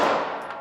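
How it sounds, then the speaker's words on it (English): Handgun shots fired on a shooting qualification course at three yards, a quick loud burst of sharp reports within well under a second, close and alone. "Shooting 3 rounds at 3 yards in 5 seconds."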